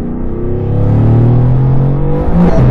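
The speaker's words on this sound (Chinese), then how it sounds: "它高转的声音好好听哦" A Mercedes-AMG flagship revving hard at high RPM from inside the car, a loud, sustained engine drone that climbs steadily in pitch with no talking over it.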